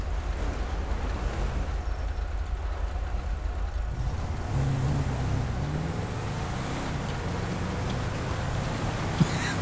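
A car in a roleplay driving video game gives a steady, droning engine rumble with a wind-like rushing noise, continuous and fairly loud throughout.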